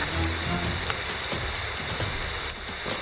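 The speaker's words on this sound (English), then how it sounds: "it hasn't rained this hard yet." Heavy rain pours steadily on a hammock campsite along a backpacking trail in the woods, a dense continuous hiss of drops drumming on surfaces with no pauses, loud and close throughout.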